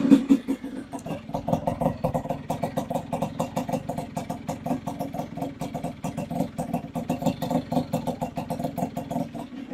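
An old motorcycle engine idling close by with rapid rhythmic pulsing knocks, rising in intensity as it is revved, loud and steady throughout with no talk.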